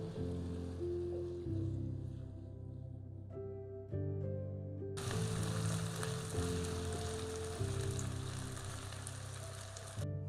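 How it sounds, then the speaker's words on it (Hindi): Onions frying in hot cooking oil in a kadai. A steady, bright sizzle starts about halfway through and carries on under sustained background music. "प्याज को गोल्डन होने तक फ्राई करेंगे।"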